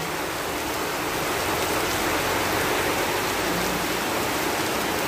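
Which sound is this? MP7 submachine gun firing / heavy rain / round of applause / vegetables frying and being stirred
heavy rain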